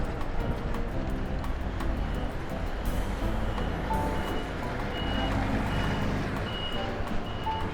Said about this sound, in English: That's a bus.